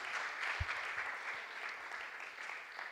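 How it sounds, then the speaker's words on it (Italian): A church congregation applauds after a call-and-response cheer, a soft distant wash of clapping heard faintly throughout. "fatevi un forte applauso"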